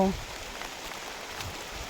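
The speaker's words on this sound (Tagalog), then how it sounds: "medyo inabot tayo ng ulan" Rain falls steadily on a forested mountain trail, a soft continuous hiss of drops at moderate distance with no voices.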